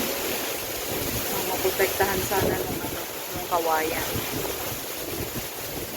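Strong typhoon wind buffeting a small farm, a steady roaring gust noise through the microphone with a rooster-like call in the background, while someone talks over it.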